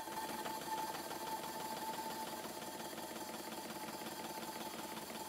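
A vintage model steam traction engine runs on test after its steam pipe is refitted, giving a quiet, fast, even mechanical chatter with a faint steady whine, continuous and close.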